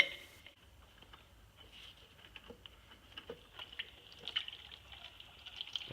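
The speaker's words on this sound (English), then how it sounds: "make sure you have like a drain pan or something for the fluid to go into." Power steering fluid from a BMW E46 pump hose drains into a pan, heard as faint, irregular patters and drips of liquid that grow busier toward the end.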